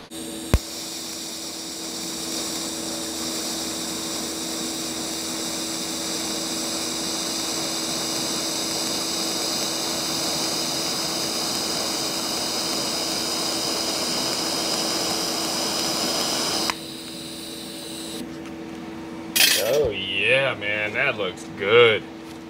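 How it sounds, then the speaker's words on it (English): TIG welding with 100% argon shielding gas on a DecaPower PMCT-205 machine gives a steady, even hiss and hum for most of the stretch, then stops, and a voice follows. "that's TIG welding real nice"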